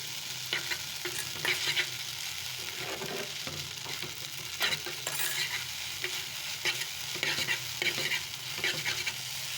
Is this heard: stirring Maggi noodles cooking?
yes